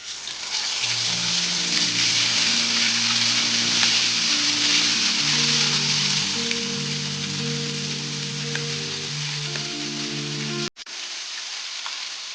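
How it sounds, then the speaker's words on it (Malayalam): Chicken for a kanthari tamarind-leaf fry hits hot oil and sizzles in a dense, even crackle, with soft background music underneath, before cutting off abruptly near the end. "അപ്പോൾ എണ്ണ ചൂടായിട്ടുണ്ട്. നമുക്ക് ചിക്കൻ ഇടാം."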